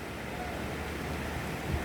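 Waves washing onto the beach at Alibag, a soft continuous surf wash with light wind, fairly quiet and without speech.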